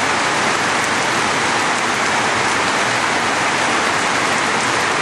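Heavy rain pours down in a dense, loud, unbroken roar of water, with an overflowing gutter spilling nearby, continuous and close without any voices.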